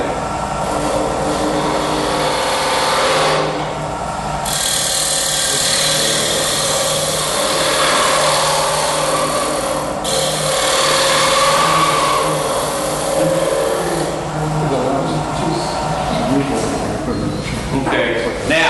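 Knife blade ground on a powered grinder with a jig, a steady whining drone running throughout with brief dips, while someone talks over it.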